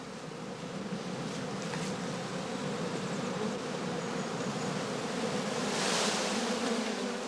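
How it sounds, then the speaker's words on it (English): Honeybees in an apiary buzz steadily around straw skeps, a dense, continuous hum from many insects close by that swells slightly louder toward the end. "Bees removed, that the beekeeper does not want for his overwintering skeps, are collected in an empty skep reserved for sale"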